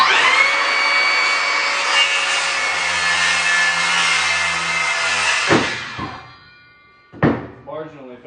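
A saw blade runs steadily through wood while arches are cut, a sustained whining drone that stops abruptly, followed by a couple of thunks and a brief voice.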